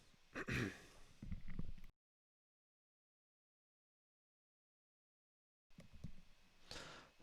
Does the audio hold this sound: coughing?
yes